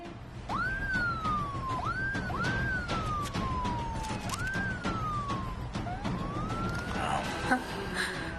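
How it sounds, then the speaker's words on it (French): Police sirens wail in repeated rising-and-falling sweeps, steady and fairly close, over a background of other noise and activity. "Je me demande à qui sont destinées ces sirènes."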